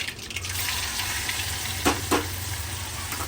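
Mustard seeds crackle in hot oil for a tempering, a steady close sizzle with a couple of sharper pops near the middle, no voices over it.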